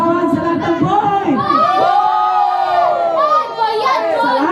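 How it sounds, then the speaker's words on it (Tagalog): At a gender reveal, a close crowd of adults and children shouts and cheers loudly and continuously, with voices rising together in a sustained roar. "Isang malakas na sigawan sa lahat ng boy!"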